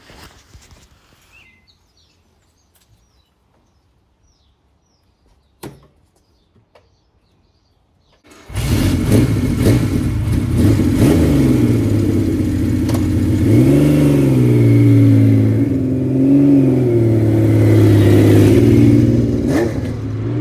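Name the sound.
Kawasaki Z1 Super Six motorcycle engine riding off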